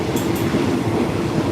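Passenger train running on the tracks toward Bangkok, Thailand, heard from on board as a loud, steady rumble with rhythmic wheel clatter and a brief high squeal near the start.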